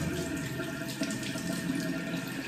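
Tap water pours steadily into a container at a sink, a continuous rushing hiss that stays even throughout, with no voices over it.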